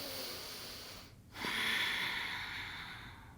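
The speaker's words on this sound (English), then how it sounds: "Deep breaths." Deep breathing during a hatha yoga flow, a soft airy exhale, a brief pause, then a long steady inhale close by, with no voices.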